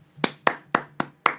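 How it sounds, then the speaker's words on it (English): One person claps five times at an even pace, crisp and close, a small home-made round of applause from a podcast host. "Round of applause for Jenna."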